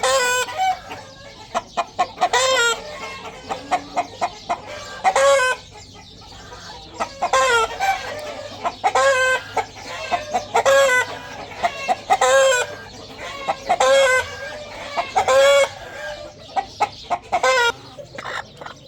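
Chickens and roosters on a farm cluck and crow in frequent loud bursts over a steady low hum, with no talking.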